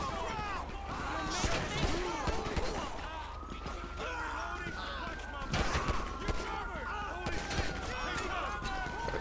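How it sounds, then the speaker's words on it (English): Gunfire in GTA 5 during a police shots-fired call in Rockford Hills pops in scattered bursts from several directions amid busy game noise, with chatter and shouting running throughout. "we had shots fired everywhere"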